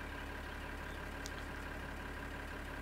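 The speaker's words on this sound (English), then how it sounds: "Annoy the people in the morning, driving around with our tractor here" A tractor engine in Farming Simulator 2013 drones at a steady idle-like hum, faint and uniform throughout, with a couple of tiny clicks and no talking.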